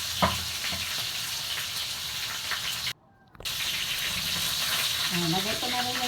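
Garlic frying in a pan of oil for chicken caldereta, a steady close sizzle and hiss that runs throughout, broken by a brief gap, with some stirring and a little background noise.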